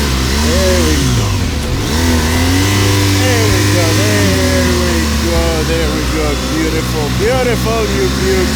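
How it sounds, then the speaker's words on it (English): Adventure motorcycle engine revs up and down as the rear wheel spins on loose ground, a loud close rising and falling whine, with someone talking over it. "Wheel spin is the adventure rider's friend."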